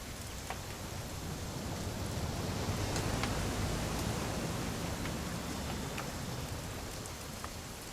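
Rain in the video game What Remains of Edith Finch: a dense, constant hiss of falling rain with faint scattered drop taps, steady throughout and with no voices.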